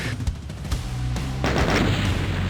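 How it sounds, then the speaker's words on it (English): Explosion in the Doom 2 RTX video game: a dense, rumbling blast with booming low thuds and rising noise that swells and holds loud and close throughout. "look at that explosion"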